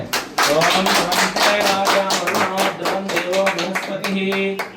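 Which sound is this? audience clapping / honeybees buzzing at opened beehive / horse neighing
audience clapping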